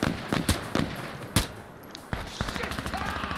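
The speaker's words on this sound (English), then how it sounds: "Taking heavy fire." Heavy gunfire in the video game Insurgency Sandstorm: sharp, loud shots crack out irregularly, some close and some more distant, with a spatter of smaller reports trailing after.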